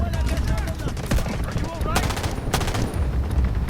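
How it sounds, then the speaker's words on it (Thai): Gunfire in the shooter game Delta Force, loud rapid bursts and repeated sharp shots packed together, with a player talking over the shooting. "ใครยิงอะไร เสียงเหมือนมีคนยิงเรานะที่ขวาม"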